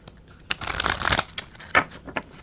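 Tarot cards are shuffled by hand during a reading, giving a few quick, close riffling and flapping bursts with short pauses between them.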